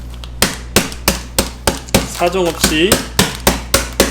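Oreo cookies smashed with a meat tenderizing hammer on a kitchen counter, about a dozen sharp, evenly spaced thuds close up, with a short spoken phrase partway through.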